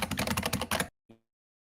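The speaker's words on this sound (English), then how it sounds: "Is he still typing?" Fast typing on a computer keyboard, a dense burst of close, crisp key clicks lasting under a second, then silence and one last single tap.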